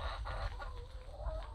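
Backyard chickens cluck softly and continuously while being fed grain, a close, low, busy chatter with no voices.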